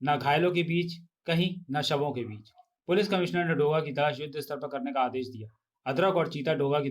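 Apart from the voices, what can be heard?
No distinct noise like a dog, phone or traffic.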